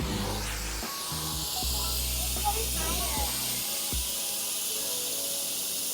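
Pressure-washer water jet rinsing car shampoo foam off a car: a steady, loud broadband hiss runs through nearly the whole stretch, with a low engine-like drone underneath and brief shifts as the spray moves around.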